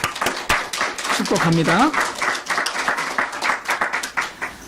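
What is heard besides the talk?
church congregation applauding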